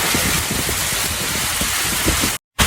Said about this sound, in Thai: ฝนลงหนักมากเลย